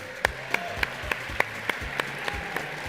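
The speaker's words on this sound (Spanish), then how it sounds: "Un aplauso para Andrés." An audience at an award presentation claps in a steady, evenly spaced rhythm, each sharp clap standing out over a quiet background.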